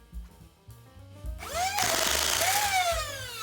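A Game Face Prime foam blaster loaded with Adventure Force waffle darts gives a few soft clicks, then its motors spin up into a loud, steady whirring whine as it feeds and fires.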